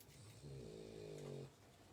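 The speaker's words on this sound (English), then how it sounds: "Am I the only one that has snoring dogs in with them when I'm crafting?" A dog snores in a craft room, a single drawn-out rumbling breath lasting about a second, fairly close but soft against a quiet room.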